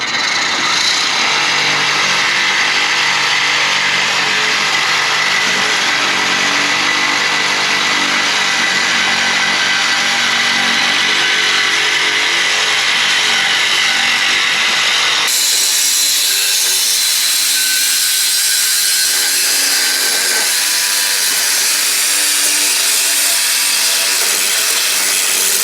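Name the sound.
Sawzall reciprocating saw cutting Mustang exhaust pipe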